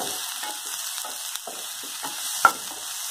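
Onions and mushrooms sautéing in a pan for mushroom soup, a steady close sizzle broken by repeated scraping strokes of a spatula, with one sharper knock near the end.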